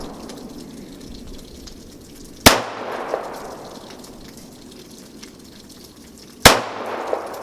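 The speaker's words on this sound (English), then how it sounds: "You're shooting consistently high." Two loud, sharp gunshots ring out several seconds apart at an indoor shooting range, each with a quick decaying echo over quiet room noise.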